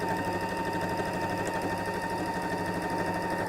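Sewing machine stitching straight down the side of a fabric tote bag, a fast even mechanical chatter running steadily and close throughout with no pauses.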